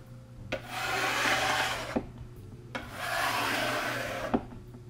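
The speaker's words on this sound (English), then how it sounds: "what I'm doing now is just running a scraper along the board to remove any excess wax" A scraper runs along a wood board to remove excess wax, producing two long, close, raspy scraping strokes, each starting and ending with a small knock, separated by a short pause.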